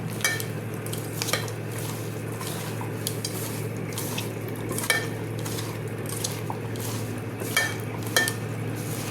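A spoon scrapes and clinks in a bowl while chili powder, cumin paste and other spices are mixed for a shing fish paturi, with irregular close clinks over a steady low background hum.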